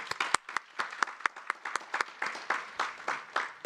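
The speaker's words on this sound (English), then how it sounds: "Big round of applause, please." An audience at a talent summit applauding, a dense burst of many hands clapping in quick uneven rhythm, steady and fairly loud for a few seconds.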